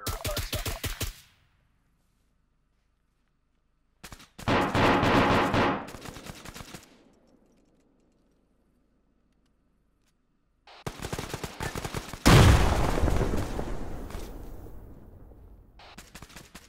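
Gunfire in the Arma military sim during a large PvP event, coming as rapid automatic bursts in three separated clusters with silent gaps between them, loud and near, the last burst followed by a fading echo, and no talking.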